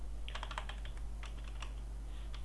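Keys clatter on a computer keyboard in irregular bursts of typing, fairly close and moderate in level, over a steady electrical hum with no voices.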